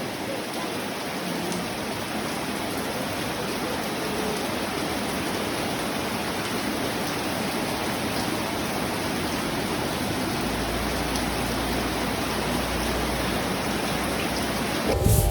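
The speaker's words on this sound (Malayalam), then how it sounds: "അപ്പം ഞാൻ മഴ കാണിച്ചു തരാം." Steady rain falls in a constant dense hiss, loud and unbroken throughout, with no voices heard.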